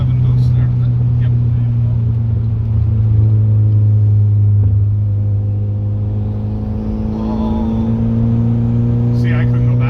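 Big-turbo Mitsubishi EVO X pulls hard in third gear, heard from inside the car as a loud, steady engine drone with a slowly climbing tone and a brief dip near the end, with faint voices in the background.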